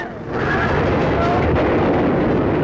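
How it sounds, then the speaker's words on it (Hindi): Battle noise from an attack on a palace, with a continuous loud roar of gunfire and explosions that starts after a brief lull and holds steady to the end. "चारों तरफ तीर बरछे और आग की बारिश हो रही है। गोलियां भी चल रही हैं"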